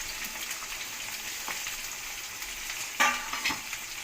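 Bitter gourd pieces for pickle sizzle in hot oil with a continuous fizzing hiss, quiet and close, with a couple of brief clinks of stirring near the end.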